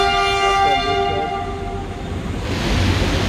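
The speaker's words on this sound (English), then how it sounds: "That's a city train." A city commuter train passes nearby in Makati, its horn sounding in steady sustained tones before giving way to loud, rumbling wheel and carriage noise.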